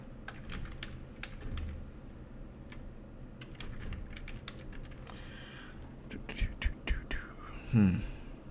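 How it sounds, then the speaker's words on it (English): Someone types a search on a computer keyboard: scattered quick key clicks in short bursts, fairly faint, with a few louder taps and a soft shuffle near the end over low room noise. "Now let's type in"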